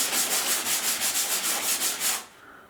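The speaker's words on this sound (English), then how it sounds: "And the idea is not to over sand it either." Hand sanding over a drywall patch: steady back-and-forth rasping strokes, about a dozen in an even rhythm, close and fairly loud, stopping abruptly near the end with no talk.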